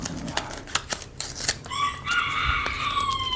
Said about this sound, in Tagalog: Ang ingay ng manok.